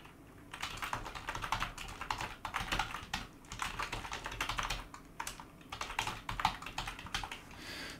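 Typing on a computer keyboard to enter a Linux touch command: steady bursts of quick clicking keystrokes with short pauses between words, close and clear with no talking.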